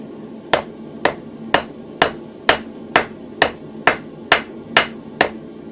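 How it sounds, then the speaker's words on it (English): Eleven evenly spaced, ringing hammer blows on an anvil while a toasting fork is hand forged, the hammer's toe striking at an angle near the anvil's far edge; loud, close and steady, with no talking. "I'm coming over to the far edge of the anvil, work at an angle, hammer at an angle with the toe."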